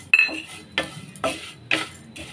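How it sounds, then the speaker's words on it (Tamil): A spoon scrapes a pan four times in an even rhythm while vermicelli roasts in ghee, close and clear with short metallic scrapes. "இப்போ வந்து அந்த சேமியா வந்து இந்த நெய்லேயே வந்து வறுத்து எடுத்துக்கலாங்க."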